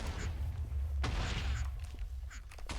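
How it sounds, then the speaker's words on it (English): Distant booms and muffled explosions in the video game Spellbound Caves II rumble through steady low background noise, with a few sharper bursts scattered across the clip. "Also explosions."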